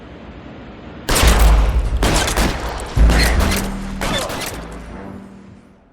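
Heavy, booming gunshots in the L.A. Noire video game, loud and close, come in several distinct blasts about a second apart, each trailing into a reverberant tail before fading out.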